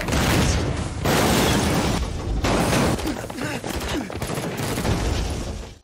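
Heavy gunfire from a film gunfight involving soldiers and a tank, with dense continuous bursts and booming impacts running throughout, loud and close, with no talk over it.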